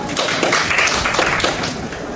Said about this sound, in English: So give yourselves a clap for that.